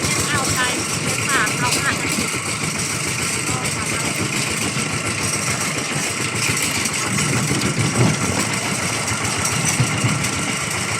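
A tractor engine idles steadily close by, giving a continuous rumbling drone for the whole stretch, with voices talking faintly underneath.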